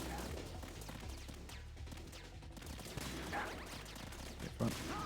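Gunfire in Metal Gear Solid 2: Sons of Liberty, a few sharp shots popping up near the end over a dense, busy game soundscape, with a voice talking throughout.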